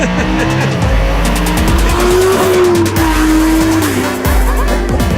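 A Lamborghini Huracán LP 580-2 slides through a hillside turn, tires squealing in a long sustained howl over the roaring engine, loud and close throughout.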